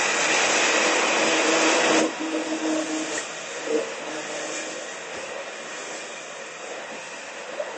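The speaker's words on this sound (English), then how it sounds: "Stick blender, pop it in, and you're just going to pull the button on, push the button on and pull it out." Stick blender running steadily as it whips ghee into mayonnaise, a loud continuous whirring motor drone that shifts slightly in pitch partway through, with no talking.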